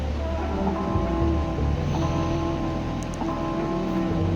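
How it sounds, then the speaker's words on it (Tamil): Fenugreek and mustard seeds splutter and crackle in hot oil for a Tamil okra kara kuzhambu. The sizzle is a dense, steady, close hiss that runs throughout. "இப்போ இதெல்லாம் நல்லா பொரிஞ்சு வந்ததுக்கப்புறம்"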